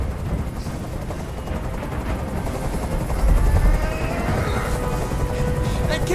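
Helicopter noise in the video game Detroit: Become Human, a dense continuous rotor roar with chopping low rumble and gritty hiss, loud and steady with sharp bursts mixed in near the end.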